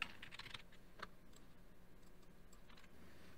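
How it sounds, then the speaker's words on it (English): Close, quiet clicking of a computer keyboard, typing a short place name into text-editing software, with a quick run of keystrokes at the start and a few scattered taps afterward over faint room hiss. "so I'm going to go ahead and type that in."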